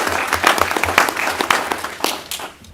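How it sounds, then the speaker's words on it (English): A room full of people gives a round of applause for a departing city staff member at a city meeting, with dense clapping that fades toward the end. "Please give her a round of applause."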